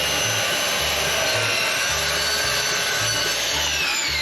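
A wooden board is sawn in half by hand, the saw strokes rasping in a steady back-and-forth rhythm, close and loud, with no one talking.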